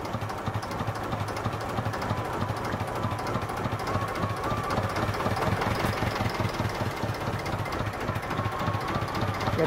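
A sailboat's inboard engine idles steadily just after starting, a close, even mechanical chug with a regular knocking pulse running throughout and no voices over it.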